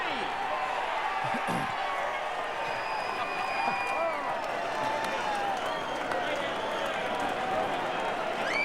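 Football crowd at a 2007 SANFL match between Glenelg and Sturt, a steady distant roar and murmur under a commentator's voice, with scattered whistles and shouts.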